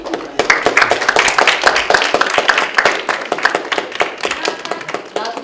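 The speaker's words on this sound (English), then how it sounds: "y'all clap your hands for all those people that are sitting out there" An audience at a 2018 high school mock trial regional round claps their hands in a steady, crowded applause of quick, sharp claps that continues for several seconds.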